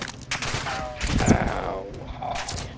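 Rapid gunfire from enemies in the video game Hunt: Showdown, several overlapping shots and bursts at moderate distance, with a brief voice in the background.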